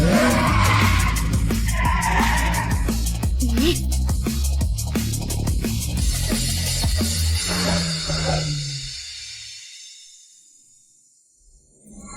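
A race car's tires skid and squeal loudly against a music backing, the screech sliding and fading out into near silence at the end.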